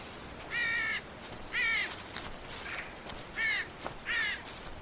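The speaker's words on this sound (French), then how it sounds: "Le chant des oiseaux." Harsh cawing calls, four of them spaced a second or so apart, rising clearly over a soft outdoor hiss.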